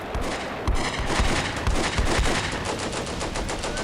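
Artillery fire in the Combat Mission video game: a dense, loud, continuous barrage of overlapping booms and rapid blasts with no break.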